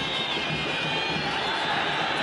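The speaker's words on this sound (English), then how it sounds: "Crowd whistling for the half-time whistle from the referee" A football stadium crowd at an Al Ahly v Monterrey Club World Cup match roars steadily while shrill whistling rises from the stands calling for half-time, a constant dense wash of noise.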